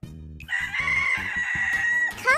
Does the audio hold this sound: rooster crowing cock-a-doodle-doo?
yes